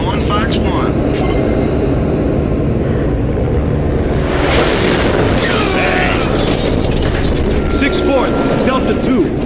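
A missile strike in Gears of War, a deep, roaring explosion swelling over a constant, dense rumble of engines and battle noise, loud and close, with radio chatter mixed in.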